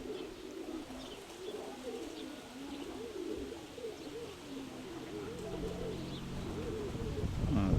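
Several pigeons, rock doves, coo softly in low, rolling warbles that overlap continuously, with faint rustling and a few small chirps in the background.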